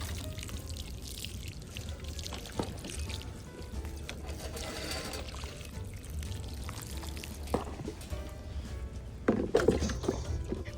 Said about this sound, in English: And we'll just water it in.